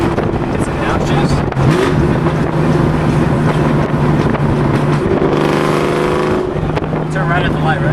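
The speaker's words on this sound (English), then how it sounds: "Get some downshifts." A Shelby Cobra's engine drones steadily on the road with wind rush, its pitch stepping through downshifts as revs rise and fall, while people talk over it.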